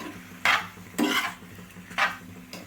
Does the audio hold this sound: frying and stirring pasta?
yes